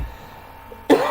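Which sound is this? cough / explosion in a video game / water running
cough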